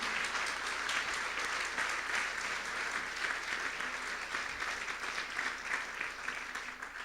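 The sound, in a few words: congregation applauding in church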